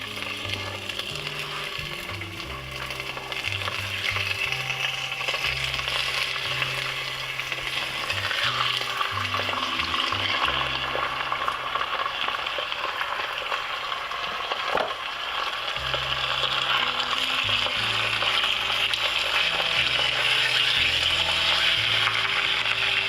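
Chicken browning in a frying pan, with a constant close sizzle and crackle and low background hum, plus occasional stirring, running steadily with no talk.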